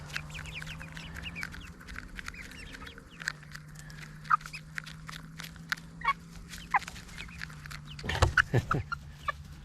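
Excited backyard chickens cluck and squawk close by in a steady jumble of short calls, with a low hum underneath and a louder flurry near the end.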